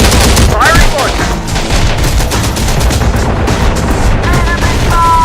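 A rocket launcher fires in the Terminator Dark Fate Defiance game within a loud, constant battle din of blasts and overlapping gunfire, with game voices calling out beneath.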